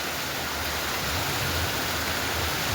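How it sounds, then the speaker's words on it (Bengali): Heavy rain pours steadily onto trees in a village, a dense, continuous hiss with a low rumble underneath, close and even throughout. "ঝমঝম করে বৃষ্টি পড়ছে"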